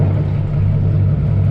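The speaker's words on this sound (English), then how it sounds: "So we're now at the stern drive legs, both engines running," Twin large diesel engines idle aboard a Princess 33 boat with stern drive legs, a loud, steady low throbbing drone heard up close without any speech.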